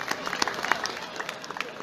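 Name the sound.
audience applause at a talent show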